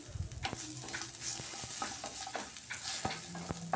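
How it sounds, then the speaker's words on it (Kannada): Tomatoes added to onions frying in a pan for obbattu sambar sizzle continuously up close, with repeated stirring scrapes and taps of a spoon against the vessel. "ನಾನಿಲ್ಲಿ ಟೊಮೊಟೊ ಹಾಕ್ಕೊತಾ ಇದ್ದೀನಿ."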